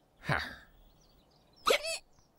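A cartoon sheep from Shaun the Sheep hiccups twice, two short sharp hiccups about a second apart with quiet in between.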